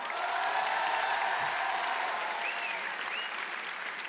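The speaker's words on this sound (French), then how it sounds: "Et ceux qui n'ont pas d'enfants, par applaudissement." Steady applause from a comedy show audience of people without children, a dense, even wash of clapping that fills the room throughout with a faint crowd murmur beneath.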